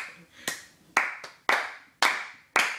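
Hand claps, five sharp slaps at a steady, slightly uneven pace with a short ringing tail after each, close and fairly loud with no talking over them.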